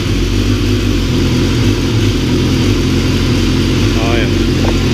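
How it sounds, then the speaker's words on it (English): Motorcycle engine running, a loud, steady close-up rumble that holds throughout with a faint brief voice near the end. "start up the bike now"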